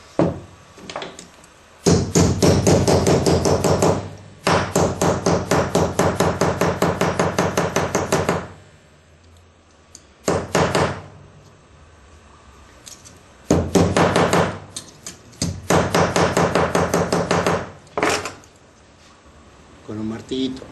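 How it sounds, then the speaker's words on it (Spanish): Rapid, rhythmic taps of a small hammer flattening the fold of a doubled-over metal sheet come in several bursts separated by short pauses, close and sharp. "Con un martillito he aplastado el punto donde se dobla la chapa"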